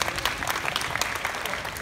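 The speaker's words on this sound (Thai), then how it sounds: "ขอเสียงปรบมือให้น้องหน่อย" Applause from an audience fills a short stretch as a young participant at a hosted event is honoured, dense steady clapping throughout at moderate loudness with no voices over it.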